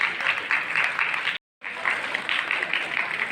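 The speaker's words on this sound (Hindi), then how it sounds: "जोरदार तालियों से इनका स्वागत करते हैं।" A crowd applauds vigorously at an International Women's Day honouring ceremony in Dhanbad, steady dense clapping broken by a brief dead-silent dropout before resuming just as strongly.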